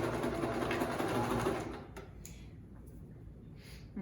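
Sewing machine stitching a homemade fabric mask: a steady, close whirring run that stops about halfway, followed by soft handling and shuffling of the fabric.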